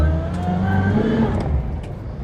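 A Reliant Fox under MOT preparation drives around a yard, its small engine humming steadily at moderate distance with a faint whir, no talk over it.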